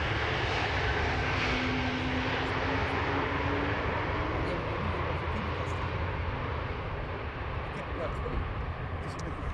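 An Airbus A321neo airliner, about a year old, arriving on the Polderbaan runway 18R at Amsterdam Schiphol: a broad continuous engine roar at moderate distance, steady throughout, with someone talking over it.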